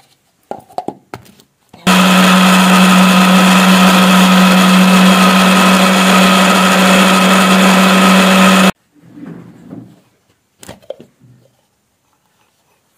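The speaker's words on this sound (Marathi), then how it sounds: "मिक्सर तर लावून झालेला आहे आणि त्याच्यात आता टोमॅटो मीच लावलाय" A mixer grinder blends tomato chutney in a loud, steady whirring run lasting about seven seconds, with brief clatter and handling noises before and after it.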